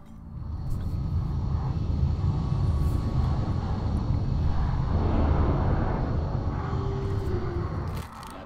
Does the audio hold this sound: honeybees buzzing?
no